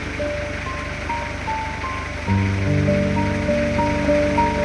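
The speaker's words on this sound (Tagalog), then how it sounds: "Lakas ng ulan." Heavy rain roars steadily, a dense close hiss, with a low engine hum and tonal notes underneath.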